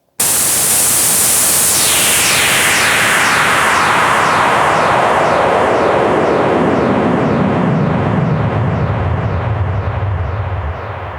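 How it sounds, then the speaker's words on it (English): A reversed delay effect on a techno track: a long, dense hiss that gradually sweeps downward, with repeating echo ripples growing toward a low, rumbling swell. "I'm gonna do something cool with delay and then reverse it"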